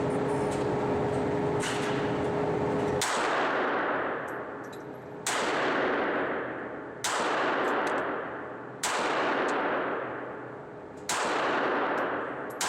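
A Glock 42 pistol test fired at a gun range: five loud, sharp shots spaced about two seconds apart, each with a long echoing decay, preceded by a steadier background rumble.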